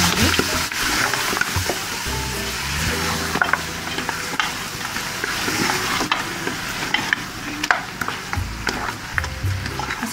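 Goat trotters (paya) fry with spices in a cooking pot, giving a steady sizzle with frequent scraping and stirring knocks from a utensil throughout, close and fairly loud, with no talking.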